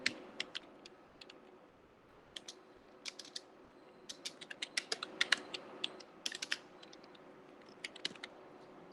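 A computer keyboard is typed on while writing in MS Word, producing sparse, irregular key clicks in short bursts, close and quiet over a faint background hum.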